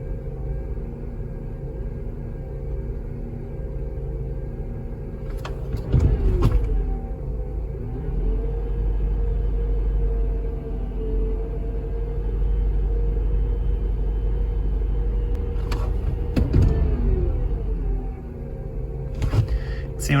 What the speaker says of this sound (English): when I jolt the throttle, it lets the IAC go down and the RPM go down equivalently